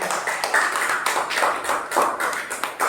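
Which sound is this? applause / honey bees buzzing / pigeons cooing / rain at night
applause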